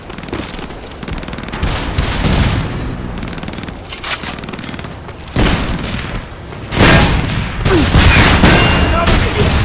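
Loud gunfire from the Frontlines war video game on Xbox comes in heavy bursts of rapid shots and booming blasts. The volume swells in waves across the whole stretch.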